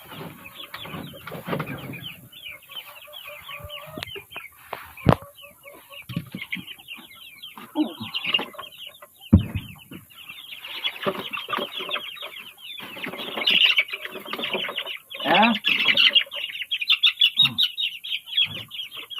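Three-week-old young male chickens clucking and chirping continuously in a farm pen, with a busy overlapping chorus of many birds close by that grows louder toward the end.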